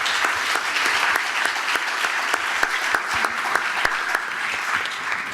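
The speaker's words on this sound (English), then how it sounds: "could we have a good round of applause for this panel?" An audience at a panel session on human-machine interfaces applauds steadily, a dense sustained clapping with scattered sharper claps, moderately loud and without talk.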